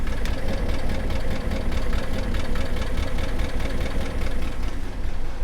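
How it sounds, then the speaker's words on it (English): A Porsche Cayenne engine with scored cylinder bores runs close by, a rough idle layered with a steady, rapid metallic knocking that repeats without pause for the whole stretch. "the bore scoring is what causes that knocking noise you heard."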